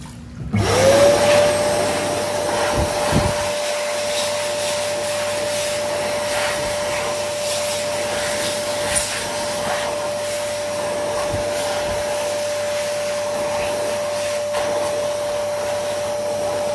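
A Goodwind Pebble Mini hand dryer runs steadily in a lounge washroom, starting with a rising whine that settles into a loud, continuous airflow roar with a sustained tonal hum, holding unbroken for over fifteen seconds.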